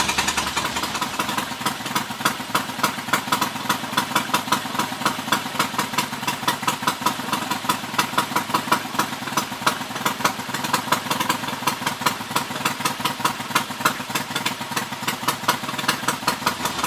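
A Triumph T140 motorcycle engine ticks over at idle nearby, a steady, even rapid pulsing with a light mechanical tick, carburettors still slightly out of adjustment, running alone without any voices.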